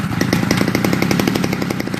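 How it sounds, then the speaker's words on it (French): A chainsaw runs loud and close, its engine chattering in a fast, even rhythm of sharp pulses that holds steady throughout. "Je suis allé chercher la tronçonneuse."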